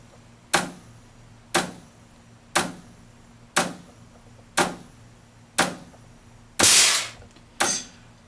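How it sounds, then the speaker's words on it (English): A repair pump assembly cycling in test mode fires a steady series of sharp, loud shots about once per second, eight in all, one burst longer and hissier, with no talking. "Now we've started it into its test mode. It's cycling. Each one of those is a shot."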